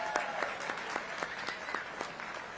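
An audience claps at a military ceremony, with soft, steady, evenly spaced applause at a moderate distance.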